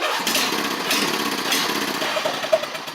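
A lawn mower engine turns over quickly on a new starter and runs steadily, a loud continuous mechanical drone with no talking.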